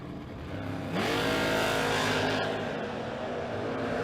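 A Chevrolet Monza and a Camaro launch down a drag strip, engines roaring up to a loud, sustained high-revving wail that rises in pitch and holds as the cars race away.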